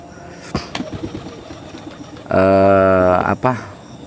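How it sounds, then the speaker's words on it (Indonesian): Close cooing of a racing pigeon: a sustained, droning coo with a few soft clicks and rustles before it, then a short final coo. "Keunikan merpati ini yang Mas Fendi ini sudah terbiasa terbang malam"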